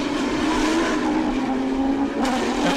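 Race cars at the Bangsaen Grand Prix street circuit in a TSS touring car race roar loudly together in a dense, continuous engine drone, with a sharp tire squeal near the end.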